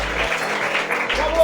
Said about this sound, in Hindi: ताली बजाकर परमेश्वर का धन्यवाद करें।